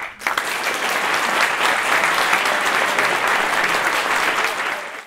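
Audience applause at a chemistry slam contest, a steady dense wash of clapping from a large crowd sustained for about five seconds before cutting off.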